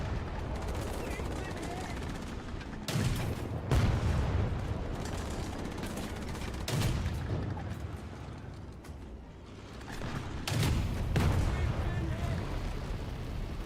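Video game tank battle with a main turret firing, repeated loud booming shots and bursts of rattling gunfire over a constant rumbling engine drone, spaced a few seconds apart.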